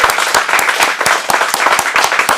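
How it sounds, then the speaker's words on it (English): An audience at an acting studio showcase in Phoenix claps loudly and densely in a brief, close burst of applause. "Let's give her a big round of applause,"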